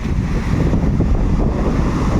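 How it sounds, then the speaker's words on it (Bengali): Steady wind buffets the microphone with a low roar on the Marine Drive seafront during a motorcycle ride, mixed with the wash of sea surf, continuous and fairly loud. "হাওয়া দিচ্ছে খুব সুন্দর"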